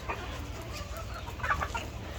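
Hens cluck softly in a poultry shed, a few scattered low clucks and short calls at moderate distance, fairly faint, with no talking.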